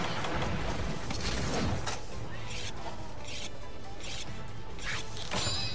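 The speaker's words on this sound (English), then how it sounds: "let's sharpen here" In Monster Hunter 3 Ultimate a hunter sharpens a hunting horn with a whetstone, a run of rhythmic gritty scraping strokes repeating about twice a second over constant game background noise.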